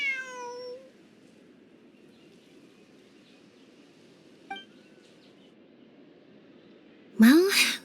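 A stray cat in Genshin Impact gives a short meow at the start, and a longer, louder rising meow near the end. A brief clink sounds between them, and the rest is quiet.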